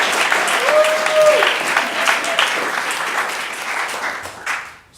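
An audience applauds after a staged reading of short plays, a sustained round of clapping that gradually thins and fades out, with a brief voice and whistle-like tone heard early on.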